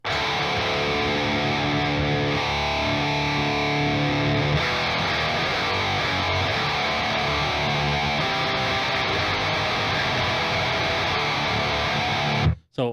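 Heavily distorted electric guitar played through the Audiority Heavy Pedal on its SWEDE setting with the distortion turned down, a dense, buzzing Swedish death metal tone chugging steadily and loud for about twelve seconds before cutting off abruptly.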